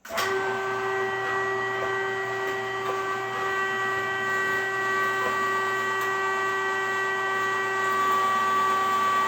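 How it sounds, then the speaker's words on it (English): An electric meat grinder runs a second grind of brisket and fat into ground beef, giving a loud, steady motor whine with a constant hum that holds for the whole stretch, with no talking. "here we start our second grind, and we will have to probably use the stomper on these"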